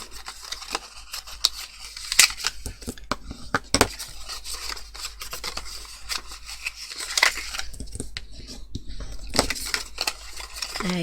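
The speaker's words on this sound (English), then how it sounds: "So I'm going to use a bone folder here just to fold everything down." Paper being creased and smoothed flat with a bone folder while assembling a Halloween flip-out drawer countdown calendar, heard as close, scattered rubbing scrapes and light taps with a few sharper clicks.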